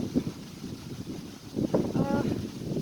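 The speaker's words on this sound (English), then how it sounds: "It's windy. I'll wait till this gust goes so you can hear me." A gust of wind sweeps through a graveyard, a low rumbling buffet against the microphone that swells and lingers, with a person talking over it.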